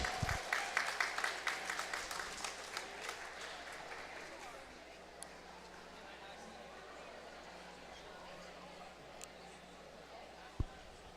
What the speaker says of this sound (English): And another big round of applause there